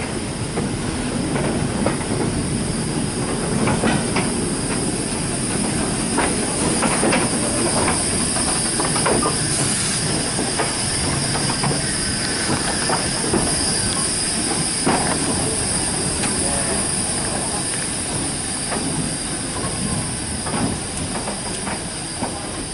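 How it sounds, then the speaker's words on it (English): Passenger train running at the Tyseley Locomotive Works open day, a steady, loud rumble of wheels and carriages with squealing rails, clicking joints and a constant hiss throughout, with no talk. "The passenger train's running"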